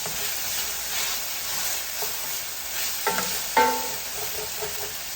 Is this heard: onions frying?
yes